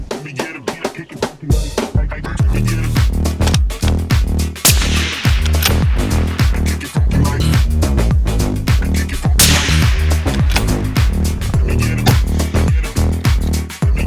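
A series of sharp, loud rifle shots in .308 or .223 calibre crack out at a 400-metre target, some in quick succession, each followed by a brief echoing tail.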